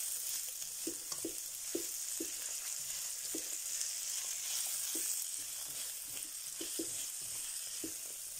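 Onions sautéing in a pan for cheese and tomato soup, a steady bright sizzle throughout with soft periodic stirring knocks, close and continuous with no talk.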